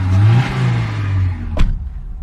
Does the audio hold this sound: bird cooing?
no